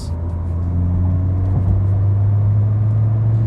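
A 2011 Mini Cooper JCW engine accelerates with a loud, steady droning growl from inside the cabin, its pitch rising slightly and holding strong throughout, with no voices.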